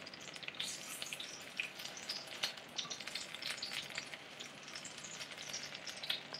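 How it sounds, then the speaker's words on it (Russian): Food frying in bubbling hot oil in a pan, a steady close crackle and sizzle with scattered sharp pops running throughout. "маслица кипит"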